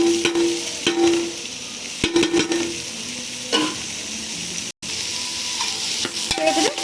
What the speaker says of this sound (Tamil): சேர்த்துட்டு நல்லா மிக்ஸ் பண்ணிக்கலாம். நல்லா வதக்கணும்.